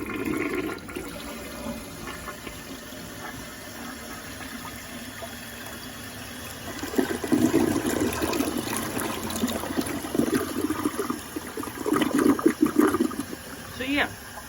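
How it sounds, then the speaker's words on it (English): A toilet, just repaired after running constantly, flushes and refills with rushing, gurgling water that swells in bursts partway through, heard fairly quietly beneath a person talking. "the toilet still flushes pretty good"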